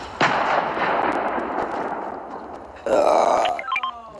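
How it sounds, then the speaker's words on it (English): Burp from a kid gamer during a Fortnite match, a loud close belch that rises suddenly and drags on for a few seconds before a second burst, over game noise. "I burp again"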